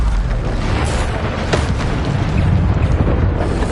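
Bombarda spell explosions in the Hogwarts Legacy video game, a sustained loud roaring boom with dense rumbling low end and scattered crackling bursts, continuous and close throughout.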